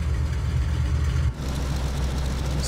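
Focke-Wulf FW 190-A4 piston engine in Microsoft Flight Simulator, a steady loud low rumbling drone that dips briefly as the throttle is pulled back, then returns slightly thinner and rougher.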